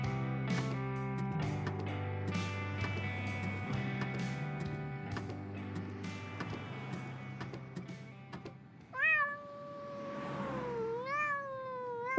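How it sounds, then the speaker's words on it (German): A cat in the point-and-click adventure game Randal's Monday lets out a few drawn-out, wavering meows near the end, after a stretch of sustained musical tones. "War nur eine Katze."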